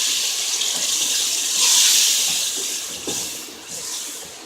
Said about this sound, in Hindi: पानी का छिट्टा, ताकि मिर्च ना सड़े